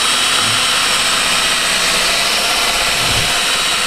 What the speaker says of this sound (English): I bought a little rotary kit for a drill. This is 2000 grit sandpaper right here.